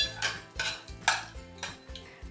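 A spoon stirring cashews in a pan while sautéing, four quick scraping clinks against metal in an even rhythm, close and fairly quiet.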